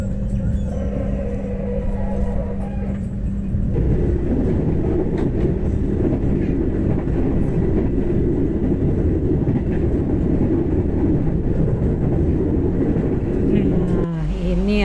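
Continuous loud rumble of the KA Malabar train running on the southern Java railway line, steady rolling noise and rattling throughout, heard from inside the carriage, with a shift in tone partway through.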